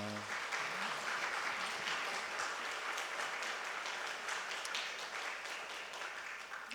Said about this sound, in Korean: 여러분 뜨거운 박수 부탁합니다